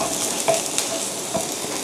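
Garlic hits a hot wok and sizzles steadily, with a few scraping stirs of a spatula over the continuous frying hiss.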